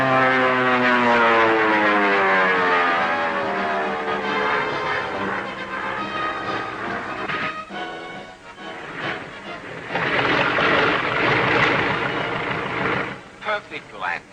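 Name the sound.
propeller airplane flying and landing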